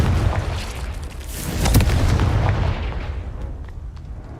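A Confringo spell explodes in Hogwarts Legacy, a loud, booming blast with a crackling burst that swells near the middle and then rumbles away into a fading tail.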